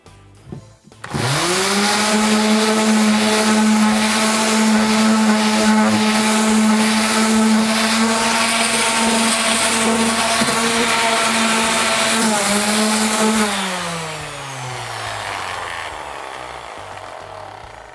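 A DIY electric belt sander starts abruptly and runs with a loud, steady motor whine and buzz, then drops in pitch and winds down after switch-off. No one speaks.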